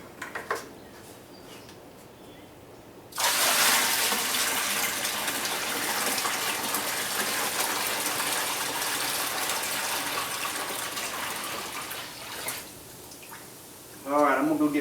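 Cold water from a deep well poured from a bucket into a container for rust-removal electrolysis: a sudden loud gush that pours steadily for about nine seconds, then stops, followed by a brief clatter and splash.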